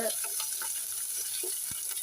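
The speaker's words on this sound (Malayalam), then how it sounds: "എന്നിട്ട് അതൊന്ന് വറുത്ത് കൊടുക്കാം" Rice, chili and tamarind roast in a pan with a soft, continuous sizzle and faint scraping stirs, close and steady throughout.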